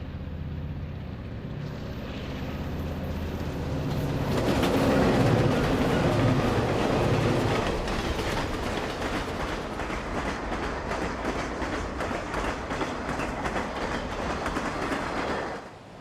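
A Union Pacific train passes on a run-by east of Strawberry, Utah, swelling from a distant rumble into a loud, steady roar of engines and wheels with rhythmic clatter, then holding strong until it cuts off.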